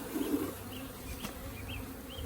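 Honey bee colony droning in an opened hive box lying on its side, a steady low buzz with a few louder individual bees passing close, no talk.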